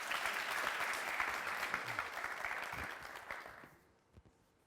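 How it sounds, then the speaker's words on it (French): A television studio audience applauds a finalist's performance on a Burkina Faso entertainment show, dense loud clapping that holds steady and then fades away to near silence at the end. "Merci de l'applaudir bien fort, s'il vous plaît"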